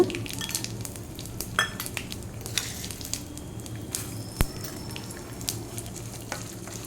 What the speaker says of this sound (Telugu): ఆవాలు జీలకర్ర మినప్పప్పు పచ్చిశనగపప్పు వేసి వీటిని కూడా దోరగా వేయించుకొని పెట్టుకోవాలి